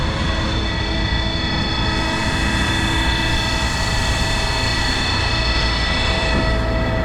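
On a farm, a tractor pulling a Vario Master baler picks up grass, its engine and machinery running as a loud, dense, unbroken drone with a steady mechanical whine, heard up close and without talk.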